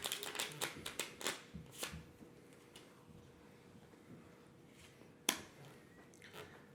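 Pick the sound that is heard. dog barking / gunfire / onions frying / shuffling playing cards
shuffling playing cards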